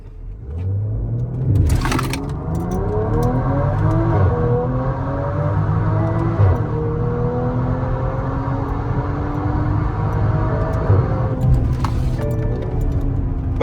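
A modified BMW X5 with custom exhaust and launch control revs and accelerates in sports mode, its engine note climbing steadily through several gear-like rises, loud and close, with a couple of sharp pops along the way.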